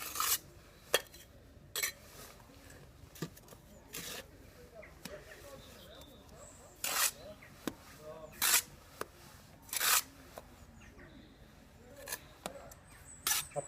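A trowel scrapes and slaps mortar into the joints of a stone barn wall during raised pointing, giving repeated rasping strokes and sharp clinks at an irregular pace over a steady background.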